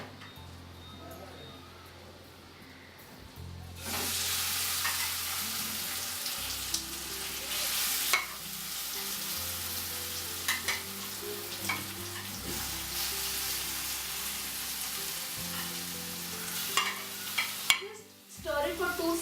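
Boiled potato vada mixture with paste, coriander leaves, turmeric and salt being stirred in a hot pan with mustard, a steady close sizzle and frying hiss with scraping stirs, continuous and fairly loud throughout.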